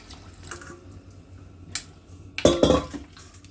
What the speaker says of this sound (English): So I'm going to be going ahead and pour the water in